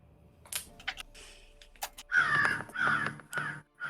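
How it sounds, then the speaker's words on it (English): Crows caw at night, a few softer calls at first, then a run of loud, harsh caws close by, with no talk. "I don't know why there's so many crows here."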